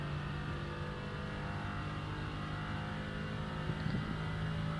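Mercedes AMG GT4 engine in iRacing at Fuji, a steady sustained engine drone at high speed in the upper gears, fairly constant and moderately loud, with no talk.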